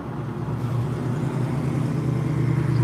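A GMC Jimmy running nearby, giving a steady low engine rumble that holds at an even level throughout, with no talk over it.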